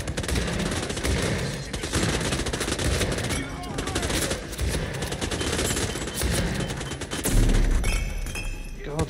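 Rapid video-game gunfire from the Hitman mission Freedom Fighters, sustained bursts of automatic weapons and scattered shots aimed at the player, dense and loud throughout with a heavier blast near the end.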